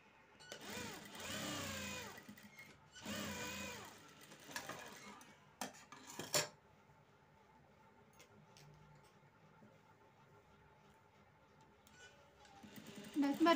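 A sewing machine stitches a fabric neckline in short bursts of rapid whirring, then fainter ticking mechanism sounds follow in a quiet room.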